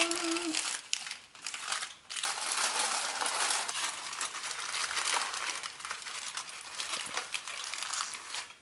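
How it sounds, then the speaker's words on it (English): Aluminum foil crinkles and crackles close up for several seconds while being shaped over the edges of a maple bourbon pumpkin pie crust in a kitchen, with brief pauses between handlings. "I'm gonna take some foil, cover the edges up a little bit so it won't burn that part."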